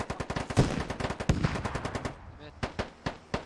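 Automatic and single gunfire in the military video game Squad, with rapid close bursts and sharp individual shots over about three seconds, ending in a few spaced, isolated reports.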